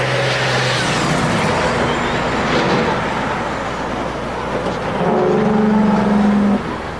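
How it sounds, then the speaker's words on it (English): Dump trucks racing laps on the dirt track at Airborne Speedway in Plattsburgh, New York, with a steady, loud roar of engines throughout and a brief harsh tonal blast near the end. "4 laps for dump truck racing"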